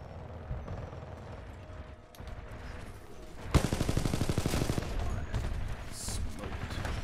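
Rapid automatic gunfire in a shooter game with pilots and titans: a rumbling background of combat gives way to a loud, continuous burst of fast shots about halfway through, holding steady to the end.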